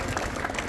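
Steady, dense applause from an audience at a sports prize ceremony, a brief unbroken patch of many hands clapping at once.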